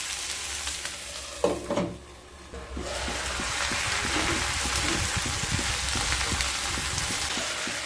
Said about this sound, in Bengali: মিশিয়ে নিয়ে লো টু মিডিয়াম স্টিমে 10 থেকে 15 মিনিট ভালোভাবে রান্না করে নেব